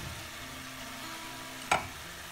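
Noodles going into a pan of sauces for a veg hakka stir-fry, heard as a steady low sizzling hiss with one sharp clatter partway through, close and moderately loud.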